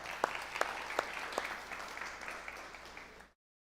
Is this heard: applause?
yes